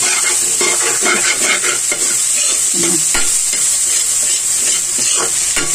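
A spoon stirs bitter gourd (ampalaya) and egg in a hot frying pan, loud continuous sizzling with scraping and clinking strokes against the pan throughout, no voices.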